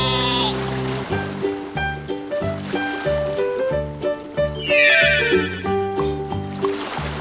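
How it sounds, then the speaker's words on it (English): A sheep bleats over a bouncy children's nursery-rhyme melody that plays loudly throughout, its wavering cry rising briefly above the music near the middle. "Sheep."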